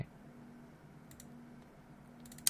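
A computer mouse gives a few faint, sharp clicks in a quiet room, a couple in the middle and a quick cluster near the end, over a low background hum.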